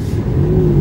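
An Audi R8 in Bahrain waits while another car passes close by, its engine a steady, loud mid-pitched rumble building slightly over under a second, with no talk.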